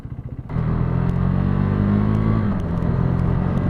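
KTM RC390 single-cylinder sport motorcycle engine idling with a lumpy pulse, then revving sharply and holding high RPM toward its 10,500 RPM red line, loud and close, dipping briefly near the end.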